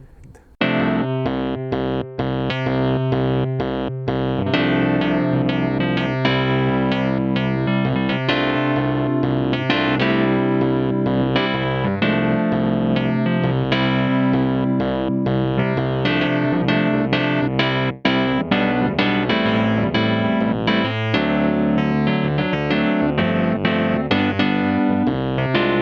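A Yamaha CP88 stage piano plays through a compressor and drive, giving sustained, bright, slightly gritty chords and melody lines that play continuously and loudly with no talking over them.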